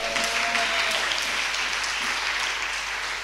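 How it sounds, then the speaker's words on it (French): A church congregation applauds the Lord during a Sunday worship service, a steady dense wash of clapping from many hands filling the room, with faint voices mixed underneath. "On applaudit le Seigneur puissamment"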